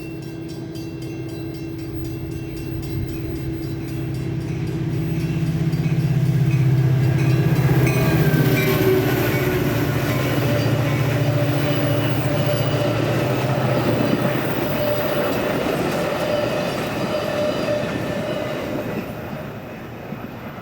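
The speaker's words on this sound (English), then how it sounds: "here comes that freight train we were expecting on the center track." A freight train rolls through a station on the center track, its low rumble building to a loud, sustained roar with steady rail clatter and faint wheel squeal, then slowly fading as it passes.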